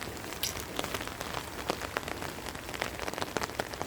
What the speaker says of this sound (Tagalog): raining it's rainy